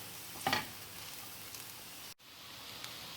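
Veg Hakka noodles with a splash of vinegar are stirred in a hot pan, giving a faint, steady sizzle with one brief scraping stir near the start.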